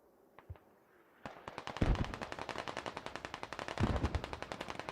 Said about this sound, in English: Chameleon is the MG, tries to lay down fire on some, but only gets one.